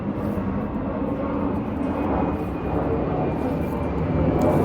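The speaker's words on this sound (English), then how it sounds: "planes overhead." A steady broadband roar of airplanes flying overhead, loud and continuous throughout, with no talking.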